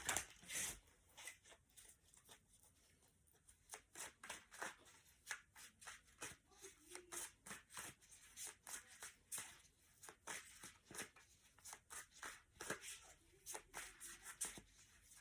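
Chakra Wisdom Tarot cards are shuffled by hand in a quiet room, a long run of soft, rapid riffles and flicks repeating in uneven bursts, close and faint throughout.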